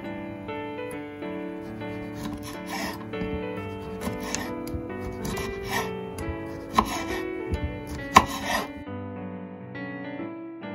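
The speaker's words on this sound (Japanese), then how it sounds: "ソシソンはサラミのような乾燥ソーセージのことで、薄くスライスして食べます。" Knife slicing through saucisson, a salami-like French dry sausage with its white outer casing left on, with soft irregular cuts and taps against a board beneath steady background music.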